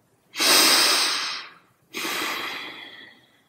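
Two slow, audible breaths by a group of people during a women's festival performance in Istanbul, a long inhale or exhale followed by a second, softer one, close and clear with no talk.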